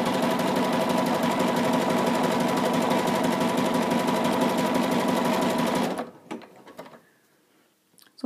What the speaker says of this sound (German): dann weiß ich, wie viel ich dehnen muss und kann dann weiter nähen